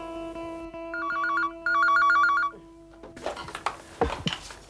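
A telephone rings inside a home with a warbling electronic ringtone. Two bursts ring out, the second louder, then give way to rustling and handling noise.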